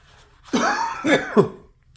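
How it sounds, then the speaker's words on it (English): A single person coughs a few times in quick succession, close and fairly loud, followed by silence. "Sorry for my coughing."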